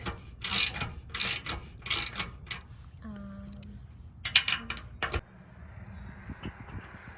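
A ratchet wrench clicks in bursts while bolts are tightened on a boat trailer's spare tire holder, with short metallic rattles and a faint squeak between the bursts and light voices in the background.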